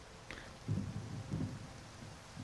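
Rain falls steadily in modded Skyrim while low rumbles of thunder roll through at a quiet, distant level.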